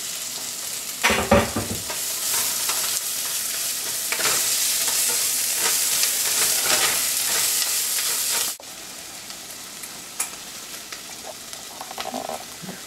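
Potatoes fry in a pan with turmeric, making a dense, continuous sizzle with bursts of stirring and scraping, louder at first and then quieter but still crackling in the latter part.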